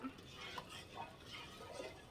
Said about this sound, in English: Now we're just going to stir this up